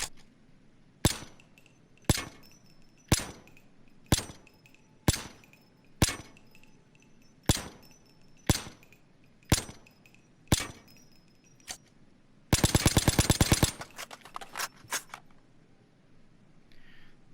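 A Colt 727 AMCAR assault rifle in Payday 2 fires single shots, about a dozen sharp cracks evenly spaced roughly a second apart, followed by a short burst of rapid clicking mechanical noise.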